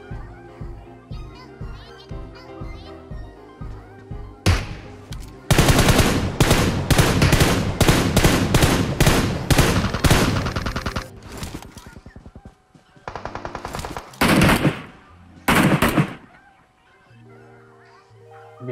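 Automatic gunfire in the video game PUBG Mobile on the Livik map: long loud stretches of rapid shots, pausing and resuming in bursts, with game music and effects before and after.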